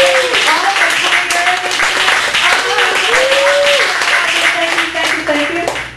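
Audience clapping at a Chicago cafe gallery poetry open mic: a dense, steady patter of hands runs throughout, with voices talking and calling out over it.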